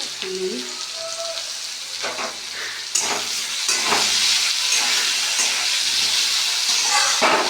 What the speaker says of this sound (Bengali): ঢাকা দিয়ে আলুগুলোকে ভালো করে ভেজে নিই।